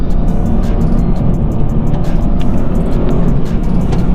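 A Renault Clio IV accelerates with its turbo, a loud steady engine drone with road roar heard from inside the car, continuous and without talk.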